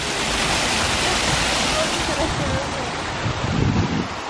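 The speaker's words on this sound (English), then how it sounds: "So he's just seen the waterfall from the canal." Water rushing steadily from a waterfall beside a canal on a winter walk, a continuous broadband roar mixed with wind buffeting the microphone, with some faint voices underneath.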